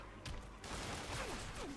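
Gunfire erupts in a Spider-Man video game as enemies open fire, a short burst of sharp cracks followed by a dense, noisy stretch of shots and game sound effects, with no talking.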